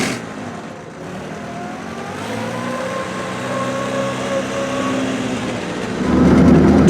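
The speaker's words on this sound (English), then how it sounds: "Driving the Crosley is an experience." A Crosley CC Sedan, a small economy car with three forward gears, drives along with a loud, steady engine drone and road rumble that swells near the end as it pulls harder.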